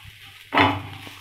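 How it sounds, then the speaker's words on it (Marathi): A large onion being roasted in a pan on the stove for a spicy chicken curry, with a soft sizzling hiss that swells suddenly partway through and stays steady, close and alone. "आता कांदा आपण भाजून घेऊया। एक मोठा कांदा घेतलेला आहे मी, आपण भाजून घेऊया।"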